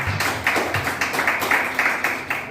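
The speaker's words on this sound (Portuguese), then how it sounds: "Então uma linda salva de palmas para Jesus" Members of a church congregation clap during a service, producing a dense run of quick, uneven claps that pulse continuously through the whole short moment with no break.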